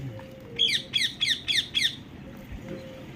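A parrot perched in a neem tree squawks five times in quick, evenly spaced harsh calls, fairly close, followed by quieter ambient sound.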